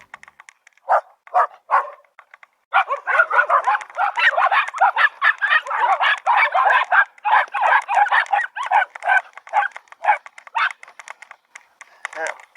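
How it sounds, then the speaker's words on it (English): A pack of dogs barks out in remote mountain country, a few scattered barks at first, then a sustained overlapping chorus of many voices, moderately distant and continuing throughout. "I seem to remember there being a pack of dogs here last time I went down here"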